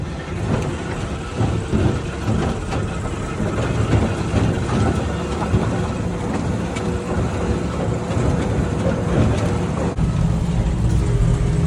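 A ZIL truck with a 3-litre diesel and automatic gearbox, driven in drifting circles, gives a continuous loud rumbling engine and driveline drone with rattling, and there is no clear talk over it.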